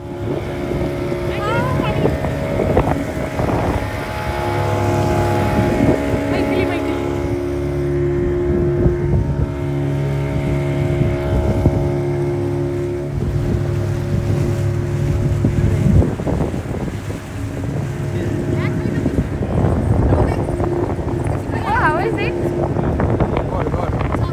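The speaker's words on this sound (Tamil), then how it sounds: "நாம் இப்போ வந்து போட்டில் போய்கிட்டுருக்கோம்" A motorboat ride on Pykara Lake in the hills, with a loud steady engine drone and rushing wind buffeting the microphone throughout, while people talk over the noise.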